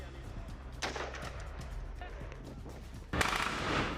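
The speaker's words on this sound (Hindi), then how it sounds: "दक्षिणी गाजा में गोलाबारी कर रही ये इजरायल की फ्लीट इगोज कमांडो यूनिट है" Gunfire from an Israeli commando unit in southern Gaza: a sharp burst of shots, then a second louder, sustained volley, over a low rumbling background.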